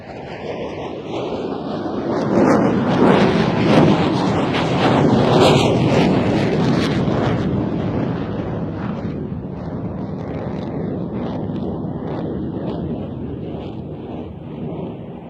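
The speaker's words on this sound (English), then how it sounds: "the F-16 enters another 360, really pulling hard to complete this turn" An F-16 fighter jet roars through a hard-pulling 360-degree turn at an air show, a loud, sweeping jet rumble whose pitch shifts as it passes, with wind buffeting the microphone.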